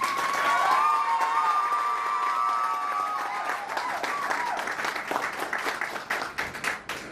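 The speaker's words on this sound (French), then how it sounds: "Veuillez applaudir s'il vous plaît." Wedding guests at a civil marriage ceremony burst into warm, sustained applause that slowly thins into scattered claps, with a bright crowd murmur and a few faint cheers underneath.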